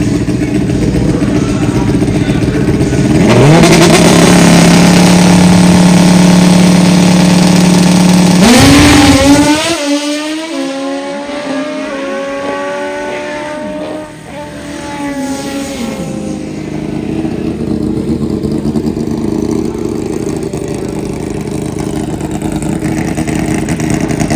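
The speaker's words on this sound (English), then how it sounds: "This class, you have turbo bikes, you got naturally aspirated bikes, you have nitrous bikes" Drag-racing motorcycles at a bike fest, a class mixing turbo, naturally aspirated and nitrous bikes. A loud engine holds a steady high rev, then launches and climbs through gears with rising, shifting tones, and the roar fades as another engine continues.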